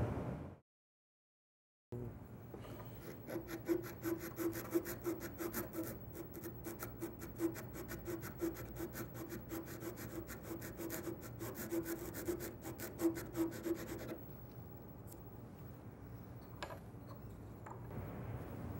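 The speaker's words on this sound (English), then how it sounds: "Wrap sandpaper around the dowel to reach into the concave areas of the cut." Sandpaper wrapped around a dowel rubs back and forth in quick rasping strokes over the concave end of a coped wood molding, close and moderately quiet after a brief silent gap at the start.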